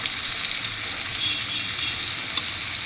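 A ground paste of ginger, cumin, chili and coriander hits hot oil with fried potatoes, giving a dense, steady, close sizzle and crackle with no talking.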